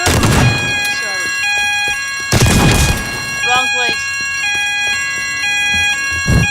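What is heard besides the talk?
fire alarm ringing in a shopping center, from video game Teardown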